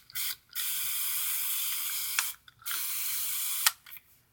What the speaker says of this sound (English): Let me spray it down real quick.